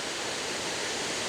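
Gooseberry Falls on Lake Superior's shore, a broad steady roar of heavy falling water, loud and unbroken like dense rushing noise with no voices.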